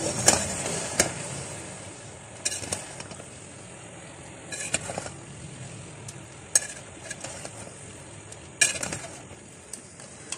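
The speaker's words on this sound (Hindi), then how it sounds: "ये शिमला मिर्च भी इसमें साथ ही डाल देंगे और बहुत अच्छी तरह से इसकी मिक्सिंग कर लेंगे" Chopped capsicum stirred into sizzling chicken balls and macaroni in a pan, with repeated scraping and clinking utensil strokes over a soft, steady frying hiss.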